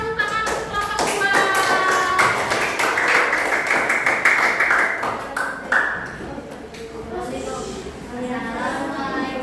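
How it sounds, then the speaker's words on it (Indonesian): A classroom of students claps for group 2, a dense burst of rapid hand claps lasting several seconds with voices mixed in before it tapers off into talk. "beri tepuk tangan untuk kelompok 2"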